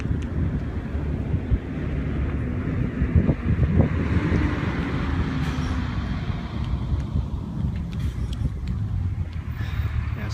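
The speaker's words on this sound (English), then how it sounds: "Wind right now, probably 10 miles per hour." Wind blows at a wildfire scene, a constant loud roar and buffeting against the microphone, with faint crackles and scattered sharper sounds beneath it.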